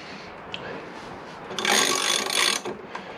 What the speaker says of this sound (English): what we need to do is we need to tighten it up, and it is done to 65 newton meters